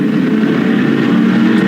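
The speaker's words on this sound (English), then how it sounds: "The revs begin to rise, the speed begins to build." Race car engines at the rolling start of a 12-hour endurance race at Paul Ricard, a loud, steady droning roar of many engines blending together, close and continuous with no talk over it.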